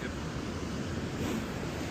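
Ocean waves wash steadily against the rocks at Shark Fin Cove, a continuous broad roar of surf mixed with wind buffeting the microphone.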